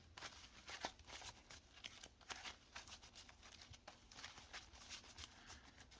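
Playing cards are shuffled repeatedly, producing quick, rhythmic riffling flutters and soft snaps at close range.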